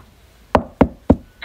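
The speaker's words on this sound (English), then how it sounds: "Who's that at the door?" Three sharp knocks land on a door in an even rhythm, close and loud against a quiet room.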